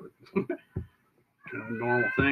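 A house cat meows loudly and drawn-out, close by, right after a voice talks briefly.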